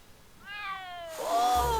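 A cat meows in the Back to the Future adventure game, a rising, wavering cry followed by a louder, longer meow that lands over a swelling background of game sound.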